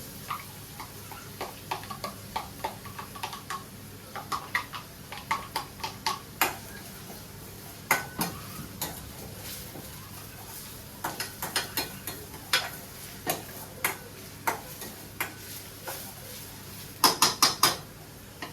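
Onions are stirred in a pan with a utensil, producing a string of sharp metallic taps and scrapes at an uneven pace, close and clear against a quiet background, with a quick cluster near the end.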